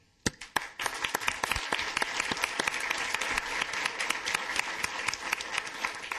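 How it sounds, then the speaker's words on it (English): Audience applause at a regular city council meeting, honoring the honor guard: a burst of scattered claps opens, then swells into steady, fairly close clapping that holds to the end. "I also want to be sure we thank the and applaud for the honor guard"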